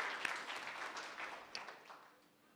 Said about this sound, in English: It's okay to clap.